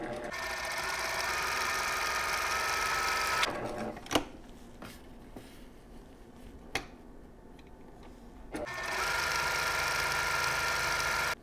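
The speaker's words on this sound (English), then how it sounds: "I'm going to stitch just barely to the inside of our stitch lines to accommodate for the fold over of the fabric" A sewing machine runs steady and loud while stitching quilt fabric squares for a sawtooth star block, pausing in the middle with a few clicks and handling noises before resuming its continuous whir.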